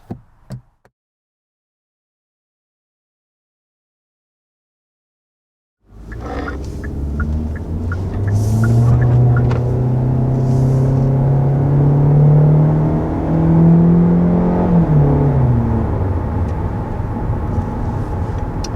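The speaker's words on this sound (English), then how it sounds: "Okay, so first taking off here in this all-new Hyundai Elantra." A 2021 Hyundai Elantra pulls away from a stop and accelerates uphill, the engine's drone rising in pitch through a gear change, heard steadily from inside the cabin after a few seconds of silence.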